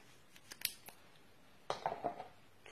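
Adhesive tape being pulled off a roll and cut with scissors, used to hold a spool in place against a glass: a few quick snips up front, then a louder tearing rip, nearby and with no talking.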